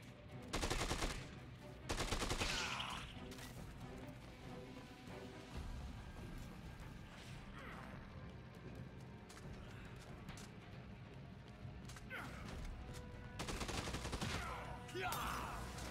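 Rapid bursts of automatic gunfire from the Dead Rising 2 video game crackle in several loud volleys with quieter stretches of game noise between them.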